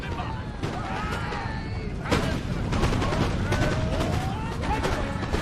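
Enemy troops' musket volleys in Empire: Total War crackle in dense, overlapping bursts with heavier booms mixed in, loud and continuous, while a voice talks over the battle.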